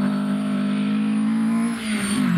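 An Alfa Romeo 1600 GT Junior historic rally car runs on a Mid Wales rally stage with a steady, loud engine drone. The pitch dips slightly near the end.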